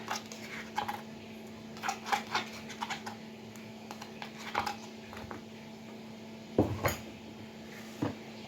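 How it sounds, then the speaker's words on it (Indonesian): A spoon knocks and scrapes around a bowl of tempe patty mixture seasoned with salt, giving irregular clinks and light scrapes at close range over a low steady hum, with no talking. "Kita aduk rata."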